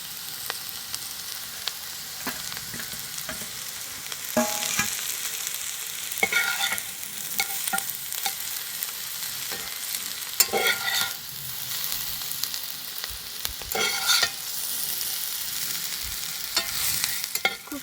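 Homemade wheat-flour noodles are stir-fried with lightly fried vegetables in a pan: a soft sizzle broken by bursts of spatula stirring and tossing, louder at moments, with no talk.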